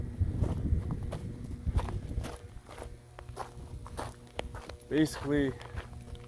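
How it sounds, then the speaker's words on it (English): Footsteps crunch across a high-voltage 345,000-volt substation yard in a steady walking rhythm, close and moderately loud, with someone speaking briefly over them near the end. "I'm just taking a quick walk around the yard."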